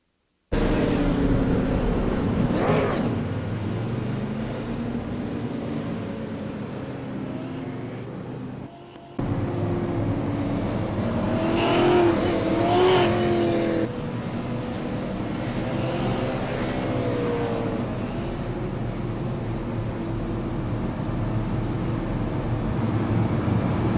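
Race car engines drone steadily on an oval track at Lucas Oil Raceway, during a SARA Super Series race with a damaged car, a continuous mid-distance roar with shifting pitch and wind buffeting, no talk.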